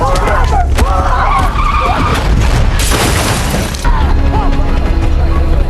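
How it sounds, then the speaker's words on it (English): Car tires skidding and squealing as a car swerves, loud and close, with screeching streaks over engine noise and a voice speaking over parts of it. "Jenny managed to fight back, causing their car to swerve"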